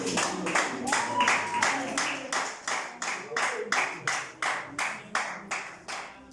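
Congregation clapping hands together at a Yoruba church service, a steady run of about twenty sharp claps over a murmur of voices and crowd noise.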